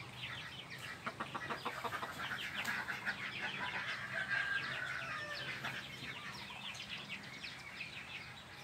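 A white-legged bantam rooster crowing in the morning at a rural farmyard, fairly faint and distant, with clucking fowl and ambient birds around it.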